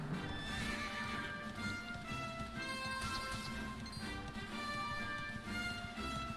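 Horse neighing and whinnying over steady clip-clop hooves in the Dragon Quest XI video game, with game music running continuously underneath.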